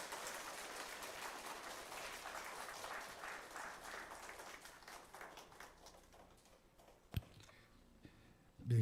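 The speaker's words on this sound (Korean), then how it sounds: "우리 박수로 환영하십시다." Congregation applause welcoming new deaconesses during a church ordination service at Andong Seonggok Church, a faint steady wash of many clapping hands that fades toward the end, broken by one sharp knock.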